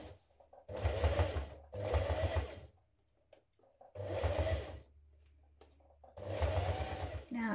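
A sewing machine fitted with a size 80 needle stitches the long edges of a dog collar, running in four steady bursts of rapid close stitching separated by short pauses, with faint handling noises in the gaps.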